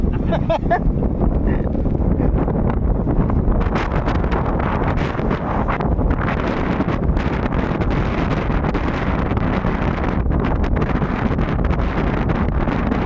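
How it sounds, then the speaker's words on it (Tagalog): Strong wind buffets the microphone in a loud, constant roar, with gusty rumbling and faint voices shouting in the background. "Ang lakas ng hangin."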